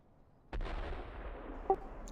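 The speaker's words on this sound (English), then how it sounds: "I've got mortars coming down on town" Mortar artillery fire in the Steel Beasts Pro tank simulation game: a single heavy boom that swells into a long rumbling roll, followed by a brief sharper crack near the end.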